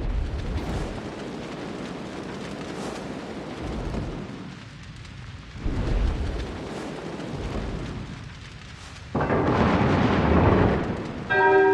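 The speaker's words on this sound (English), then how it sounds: "The ship is on fire!" A ship on fire with repeated heavy explosions and roaring flames, booming blasts rolling in waves with brief lulls, then a loud crackling burst of fire near the end, close and dense.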